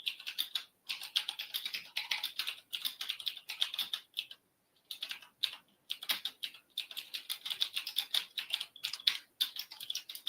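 Rapid typing on a computer keyboard during a live trading session, a dense stream of light clicking keystrokes in bursts with brief pauses, close and fairly quiet, no talking.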